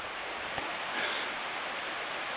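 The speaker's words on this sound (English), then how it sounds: "I showed you the waterfall." A steady broadband rush from a waterfall beside a mountain hiking trail on state game lands, continuous and fairly close, with no voices.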